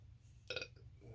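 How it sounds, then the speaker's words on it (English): A short, low belch escapes after drinking several beers, heard at close range in a quiet room and following a brief pause. "So that burp was a mix of the first beer"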